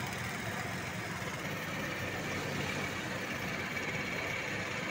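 A tractor ploughing a flooded rice paddy in the Konkan countryside gives a steady, unbroken engine drone at moderate distance, with no talking over it.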